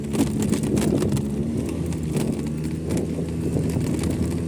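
Scooter engine droning steadily while riding over pebbly ground, a continuous low rumble with wind buffeting the microphone throughout.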